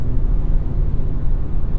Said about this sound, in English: You can hear that exhaust a little bit.